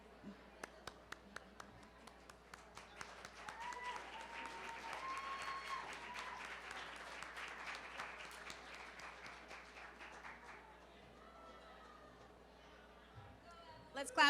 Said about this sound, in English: Let's clap it up for them one more time.